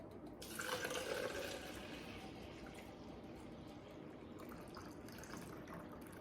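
Milk, one liter, pouring into a container for making kefir: a soft continuous liquid splash and trickle, quiet and steady throughout.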